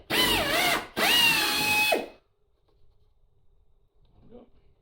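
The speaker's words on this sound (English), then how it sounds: "So I've put the bigger drill bit in, the 6mm drill bit, so we'll run that through from here." An electric drill with a 6mm bit whines loudly in two bursts, pitch dipping as the bit bites into wood, then stops, leaving faint handling sounds.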